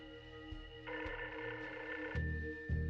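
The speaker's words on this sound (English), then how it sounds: "Ringing." A telephone rings faintly, its electronic tone pulsing over a quiet line like a call waiting to be answered.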